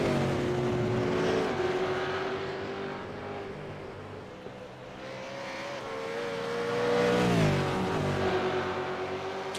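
A V8 Supercar engine in a racing sim game at Mount Panorama revs loud and steady, its pitch climbing and dropping through quick upshifts, with a sharp surge near the end; no one talks.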